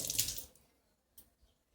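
Water is poured into lentils for boiling dal in one brief, splashy pour that stops abruptly, followed by a couple of soft drips in a quiet kitchen.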